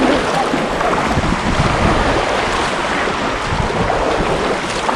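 A kayak paddles through the water near Fowey, between Pont Pill and Lantic Bay, in a loud constant wash of water and wind noise that barely changes across the whole clip.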